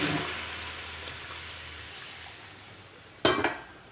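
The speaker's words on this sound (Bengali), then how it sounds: "গরম জল করে রাখছিলাম সেটা দিয়ে দেবো এবার।" Hot water splashes into a pan of cooking potatoes with a sudden loud gush near the end, after a low steady sizzle, then quickly fades.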